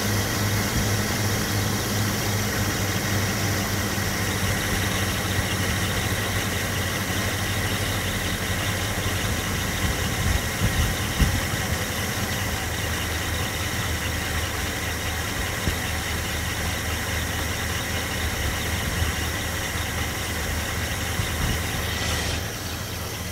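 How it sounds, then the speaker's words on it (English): A carbureted engine idling at around 750 RPM while its idle speed is being adjusted, giving a steady low hum and rumble with a faint ticking texture, running evenly throughout with no talk. "Currently, we can see by the tachometer that we're idling at about 750 RPM"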